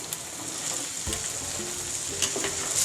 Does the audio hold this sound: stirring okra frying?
yes